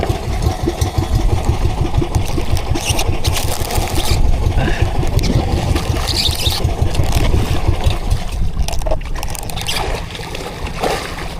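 A boat engine on a tuna fishing boat at sea runs steadily with a loud, close, throbbing low rumble that keeps an even rhythm throughout, without speech.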